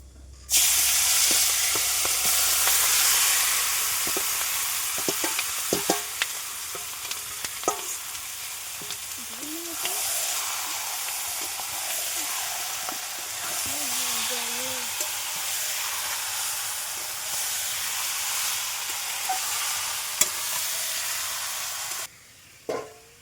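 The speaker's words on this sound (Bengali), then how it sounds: "দেখো আমি মাংস রান্না করছি, একদম অল্প তেল।" Country chicken meat fries in a wok over a clay stove with little oil, a continuous close sizzle broken by scraping stirs and clinks, while someone talks briefly over the cooking.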